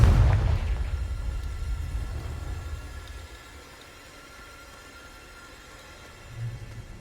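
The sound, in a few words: Confringo fire spell explosion in the video game Hogwarts Legacy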